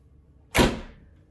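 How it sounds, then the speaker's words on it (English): A combi oven door in a canteen kitchen swinging shut with a single sharp, close thump and a brief fading rattle, surrounded by quiet. "Shut the door, let the oven do the rest."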